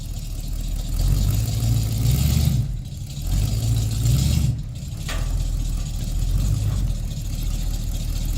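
A vehicle engine revs hard under load while its wheels spin, pulling a tree stump out with a chain in the country; a steady, loud low rumble surges and eases in several pushes, with no talking.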